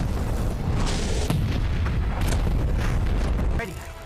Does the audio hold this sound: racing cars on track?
no